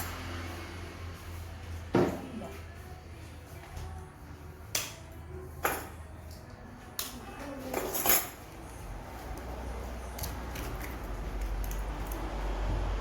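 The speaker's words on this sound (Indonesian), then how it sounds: "Kita hancurkan dulu telurnya." Eggs cracked and beaten in a bowl for a caramel sponge cake, heard as a few sharp taps and clinks against the bowl spaced across the clip, with light scraping and a low background hum.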